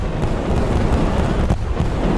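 Loud, dense rumbling blasts from barrel rollers in the battle game TABS, a continuous barrage of overlapping explosions with a few sharper bursts near the middle and end.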